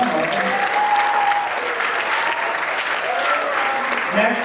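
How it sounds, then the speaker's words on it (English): A concert audience at a high school jazz band winter show gives a dense, even burst of applause, with a few voices faintly audible through the clapping. "another round of applause"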